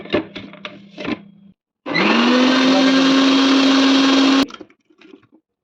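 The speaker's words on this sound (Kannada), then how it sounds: "ಇದನ್ನು ಮಿಕ್ಸಿ ಮಾಡ್ಕೋಬೋದು." A mixer grinder blends apple, grapes and banana for mixed fruit juice, a loud steady motor whir lasting about two and a half seconds, preceded by clunks of the jar being set and followed by faint rattles.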